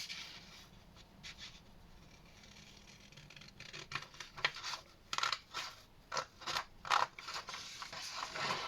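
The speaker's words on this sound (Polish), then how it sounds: "to bierzemy nożyczki i wycinamy" Scissors snip through paper in a run of crisp, irregular cuts, quiet at first and then closer and sharper, with no talking.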